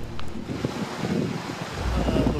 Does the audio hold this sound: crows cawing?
no